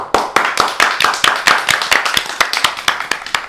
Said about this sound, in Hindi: प्रोफेसर रमन के लिए जोरदार तालियां बजा दीजिए